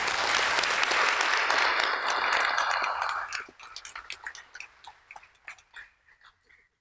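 A college awards-night audience gives a round of applause for Science Club members, dense clapping for about three seconds before thinning into scattered individual claps that fade out.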